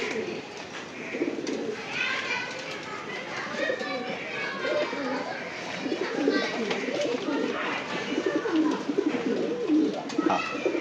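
Old pigeons in a home loft coo in repeated low, throaty rolls throughout, mixed with busy chatter and voices nearby.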